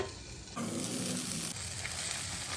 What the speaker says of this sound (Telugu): ఈ అల్లం ముక్కలు కూడా బాగా ఫ్రై చేసుకోవాలి